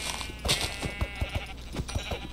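A black sheep in Minecraft bleats in a string of short, loud calls spaced unevenly, close by, with some game sounds behind.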